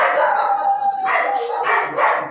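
Dogs at a gate barking and howling near and loud, a long drawn howl followed by several sharp barks in quick succession.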